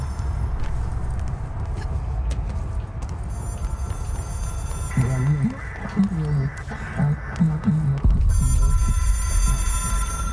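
A high, trilling telephone ring in the video game Control sounds in bursts over a low game rumble and scattered clatter, while a voice talks partway through.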